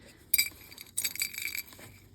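Small loose pieces of watch glass from a box of vintage watches clink and tick against one another in a few quiet, close bursts, soft and intimate with no talking.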